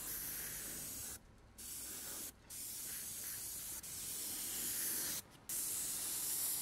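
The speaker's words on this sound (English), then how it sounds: "For dyeing I'll always like to use my airbrush" An airbrush sprays dye onto leather in a steady close hiss, cut by three short pauses as the trigger is released, then resuming.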